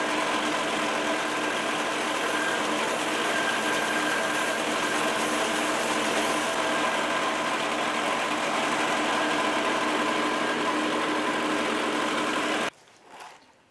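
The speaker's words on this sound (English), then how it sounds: "I'll use the corner of my belt sander" The corner of a belt sander evening out the edges of a leather holster for a John Wayne-style rig, a loud continuous whirring drone that runs steadily, then cuts off abruptly near the end.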